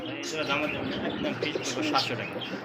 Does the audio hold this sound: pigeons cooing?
yes